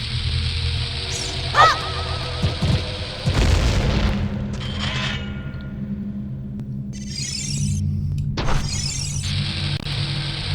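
A deep, booming bomb explosion in Zelda: Ocarina of Time hits around the middle, with other game sounds and a rumbling low drone before and after it.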